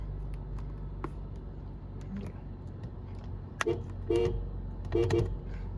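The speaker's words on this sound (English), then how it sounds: "Weird horn." A car horn gives several short, odd-sounding toots, two in quick succession followed by a double honk, near and fairly loud over a low engine idle and a few scattered ticks.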